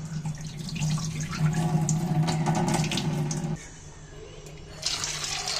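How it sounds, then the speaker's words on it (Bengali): Sago pearls being washed under a running kitchen tap: a steady, close rush of water with a low hum for about three and a half seconds, then a quieter stretch as the water is drained, and the flow starting again at the end. "আমি ভালো করে প্রথম থেকে এই ভালো করে ধুয়ে জলটা ফেলে দিচ্ছি।"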